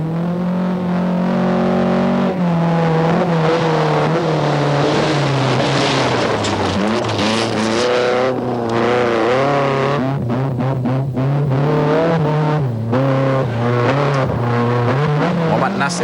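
An Alfa Sud rally car races along a special stage at the 1992 Petronas Malaysian Rally Championship in Negeri Sembilan. The engine revs loud and close, climbing and falling through the gears, beneath steady commentary.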